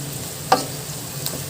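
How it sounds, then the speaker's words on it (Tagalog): Tofu and bean sprouts being stirred in a frying pan over medium heat: one short scrape of the utensil stands out over a steady, soft background sizzle. "Tapos ay i-mix na ulit natin siya."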